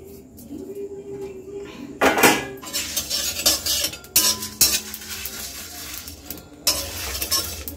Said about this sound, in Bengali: প্রথমেই আমি ভাজা মশলাটা করে নেব।